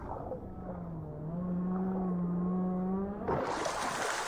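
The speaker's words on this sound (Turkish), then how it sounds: "Balinanın sesini duydunuz mu?" A whale in the underwater world of Assassin's Creed Odyssey gives a long, low, moaning call that slowly rises, sounding alone over a dull watery rumble before a sudden burst of rushing noise.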